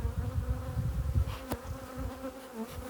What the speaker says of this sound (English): they're just getting a bit more flighty, these bees now